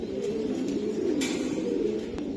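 A female Budapest pigeon gives a low, steady cooing murmur close by, a continuous soft throaty sound with a few faint clicks over it.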